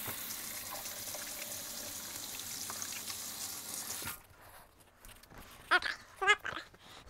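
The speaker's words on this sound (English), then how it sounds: "I'm gonna wash my hands here" Tap water runs steadily and close by for about four seconds while hands are washed in a kitchen during muffin baking, then the flow stops and a few faint clinks and rustles follow.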